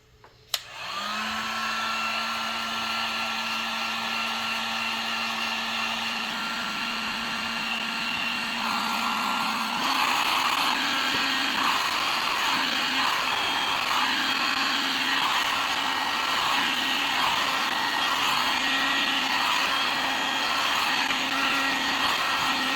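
A heat gun blows steadily for heat-shrinking tubing on Volkswagen Super Beetle alternator wiring, a loud continuous whooshing whine that starts with a click and holds, its pitch shifting slightly partway through, heard up close.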